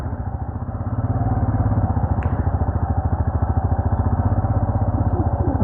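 A motorcycle engine holds a steady, loud mid-pitched drone with a rapid throbbing pulse while the rider tries to overtake on the slow road into Mount Abu, close to the microphone and continuous throughout.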